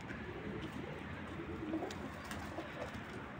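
Tumbler pigeons cooing, soft low coos under a steady background hum, faint and somewhat distant, with no voices.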